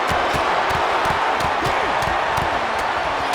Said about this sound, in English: and this crowd is hot.